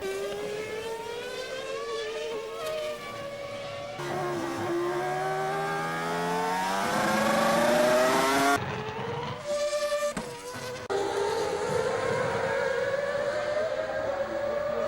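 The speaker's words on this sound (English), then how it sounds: "And that's Alonso running wide" A Formula 1 car runs wide during a race, its engine screaming through rising and falling gear pitches, with tyre scrub and another car's engine passing by, loud and continuous.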